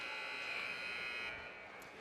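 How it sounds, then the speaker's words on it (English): Loud sustained electric buzzer sounding the end of the first period at a boys' varsity high school ice hockey game, a steady harsh tone holding for over a second before fading into arena ambience. "So that buzzer is going to mark the end of the first period."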